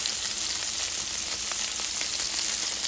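Beef burgers topped with onions fry in a pan with a steady, close, bright sizzle, constant throughout with a few faint pops and no talking.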